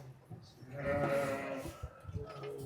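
Sheep bleat as they are given mixed feed from a 350 kg feed mixer, one drawn-out bleat close by over farm background noise, with someone talking quietly.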